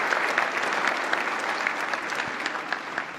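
Audience applause at the White House Correspondents' Dinner, a steady, dense patter of clapping from a large banquet-hall crowd, moderately loud and sustained without a break.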